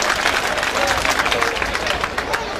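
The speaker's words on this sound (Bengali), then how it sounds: "তাকে আপনারা একবার করতালির মাধ্যমে গ্রহণ করুন।" Crowd applause at an outdoor reception for a local dignitary, a steady dense clapping that stays loud throughout, with voices mixed into the noise.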